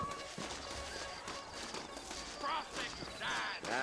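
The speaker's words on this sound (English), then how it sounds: "You ain't gonna find sturdier horses than these in all of New Albany." Horse hooves clip-clopping in the Western video game Red Dead Redemption, a steady faint patter of hoofbeats under a background music bed, with voices and a brief whinny-like call near the end.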